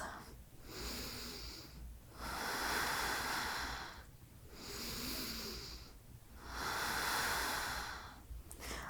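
Slow, deep breaths during a yoga pose, long airy inhales and exhales alternating in a steady rhythm of about four breaths, close and fairly quiet.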